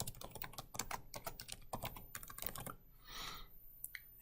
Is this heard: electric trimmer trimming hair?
no